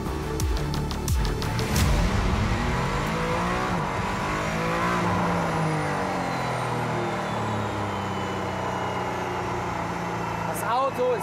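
The 1.6-litre V6 of a Mercedes-AMG One revs hard and loud, the engine note sweeping up and down through several rising pitches with a brief tire-squeal edge, close and sustained for about eleven seconds.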